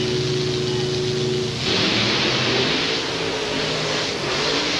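Monster truck Four-Wheel Crazy at a 1990 USHRA mud race in Tampa, Florida, a loud steady engine drone that surges into a harsher, noisier roar partway through, close and continuous with no talk over it.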